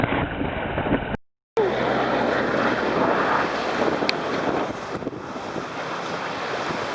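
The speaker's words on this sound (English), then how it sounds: "Getting some wind in the Venice Canal." Wind blows hard on a boat sailing in a Venice canal, with strong buffeting gusts and rushing water that drop out briefly near the start, then resume loud and steady.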